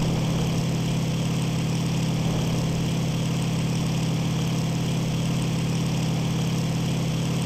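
A WWII-era aircraft engine from IL-2 Sturmovik 1946 drones steadily and loudly with a deep, constant hum, holding an even pitch for the whole stretch with no talk over it.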